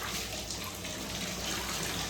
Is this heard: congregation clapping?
no